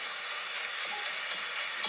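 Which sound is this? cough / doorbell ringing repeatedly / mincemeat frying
mincemeat frying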